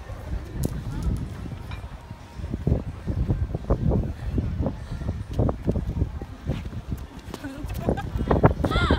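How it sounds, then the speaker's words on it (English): Horse hooves clip-clop in a steady walking rhythm on pavement at Molos Park by the Limassol marina in Cyprus, close and fairly loud, with people talking over them. "Horse."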